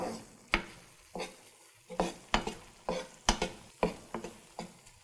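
A spoon scrapes and stirs roux cooking in a pan toward a brown roux, regular strokes about twice a second over a light sizzle, close and clear, no talking.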